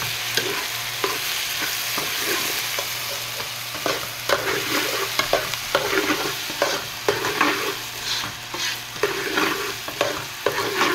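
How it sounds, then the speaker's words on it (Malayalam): Camel meat fries in a pan for an Arabic-style camel fry, a continuous close sizzle broken by repeated scraping strokes of a spoon stirring through it, with no talk. "അതും നന്നായി ഇളക്കി യോജിപ്പിക്കുക."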